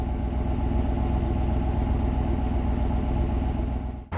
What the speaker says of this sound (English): And here is the sound from the exhaust